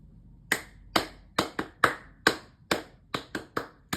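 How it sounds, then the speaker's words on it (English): A single person clapping alone during a driving-rules livestream, about ten sharp, close claps at an irregular, unhurried pace with quiet gaps between them. "clap for yourself."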